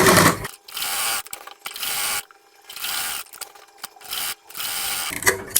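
A sewing machine stitches a puff sleeve for a suit in several loud bursts of rapid mechanical whirring, each run separated by short pauses.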